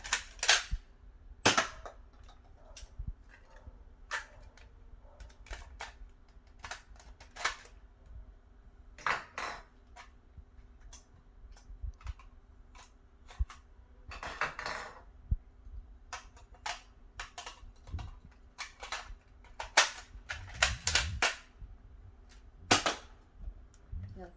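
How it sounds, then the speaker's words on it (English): A Nerf N-Strike Elite Shellstrike DS-6 blaster fires foam darts in a rapid string of sharp, close snaps with faint mechanical clicks between shots, against a quiet background. "The blaster just shot 3 darts per second."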